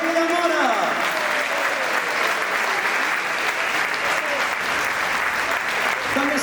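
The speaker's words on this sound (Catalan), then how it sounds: "fortíssim aplaudiment per les veus de la Salvatana" Loud, sustained applause from a concert audience for the sopranos, tenor and baritone singing with the Orquestra Selvatana, a dense steady wash of clapping with a voice speaking over it at the start.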